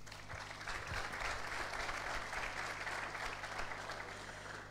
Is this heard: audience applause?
yes